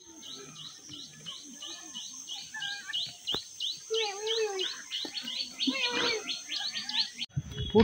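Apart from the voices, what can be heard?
birds chirping in forest on Parasnath Hill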